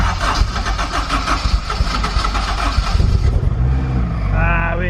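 A Mazda RX-7 with a rotary 13B engine cranks and fires, the choppy, uneven starting noise settling into a steady idle near the end.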